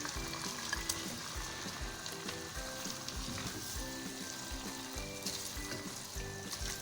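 Beef pieces sizzle and fry over high flame in a pot while pulao is being made, a steady dense crackle with frequent stirring clatter and scraping throughout.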